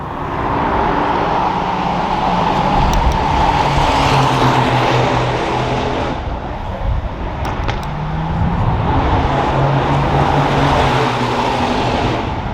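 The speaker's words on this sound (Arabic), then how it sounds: "صوت الموتور الحلو." An Aston Martin car engine at Silverstone circuit drones loudly and continuously, rising and falling as the car passes, with a second swell later; no speech.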